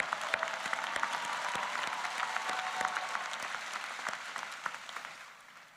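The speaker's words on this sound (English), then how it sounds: "Round of applause to all of them for their incredible accomplishments." Applause from a convocation audience honouring award winners, steady clapping that holds at moderate strength and then slowly thins toward the end.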